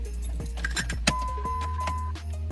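Car keys jangle and clink in the ignition of a 2001 Dodge Dakota as the key is turned, a metallic chiming over a steady low engine or electrical hum, with one sharper click midway; no speech.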